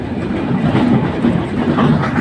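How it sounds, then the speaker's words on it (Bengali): Sundarban Express, a passenger train from Dhaka Kamalapur to Khulna, rumbles by up close with a steady, dense clatter of wheels on rails, loud and continuous throughout. "এটা রয়েছে সুন্দরবন এক্সপ্রেস ঢাকা কমলাপুর থেকে ছেড়ে আসা ট্রেনটি"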